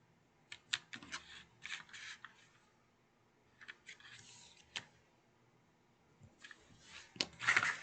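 Quiet, close snips of scissors cutting through paper for a bag craft, coming in short irregular clusters of crisp clicks and rustles with pauses between.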